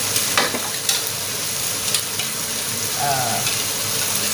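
Pork stir-fries with garlic and black pepper in a hot pan, a loud, steady, close sizzle with brief clatters of the spatula stirring.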